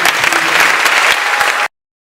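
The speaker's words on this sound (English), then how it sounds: "So I have to give another round of applause." A round of applause at a grade 8 moving-up ceremony, a dense burst of crowd clapping that stays loud and close before cutting off abruptly.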